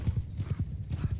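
Galloping horse hooves in the battle game Mount & Blade II: Bannerlord, a quick steady clip-clop rhythm close by with a hint of a whinny mixed in over battlefield noise.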